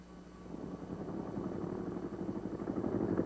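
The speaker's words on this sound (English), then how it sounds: "The first torpedo plane moves up with the following TBF moving forward to keep an even flow of planes to the catapult." A TBF torpedo plane's radial propeller engine runs on a US Navy aircraft carrier deck in 1944, a steady rumbling drone that grows gradually louder as the plane moves up toward the catapult, with no voices.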